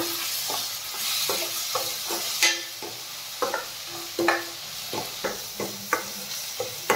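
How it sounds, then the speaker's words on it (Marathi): Tomato pieces fry with salt in a pan, a soft sizzle running beneath repeated scrapes and clacks of a stirring spoon, steady and close. "मिठामुळे आपला टमाटा ही छान लवकर तळला जाईल।"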